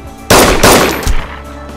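Gunfire in the survival video game DayZ, loud close bursts of rapid shots in two clusters followed by a shorter third burst, with no talking.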